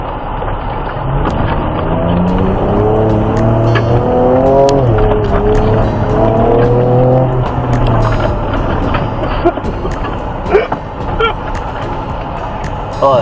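A Ford Ranger Raptor crawls an off-road trail on trail control, its engine droning continuously with the pitch rising and falling, plus occasional knocks and rattles from the rough ground.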